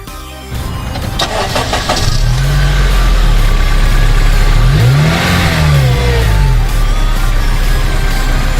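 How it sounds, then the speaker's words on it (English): A 2006 Honda Civic Si starts up and revs through its exhaust, giving a loud, close rumble with two rising-and-falling rev sweeps over a steady idle. "In addition, it has a tasteful exhaust."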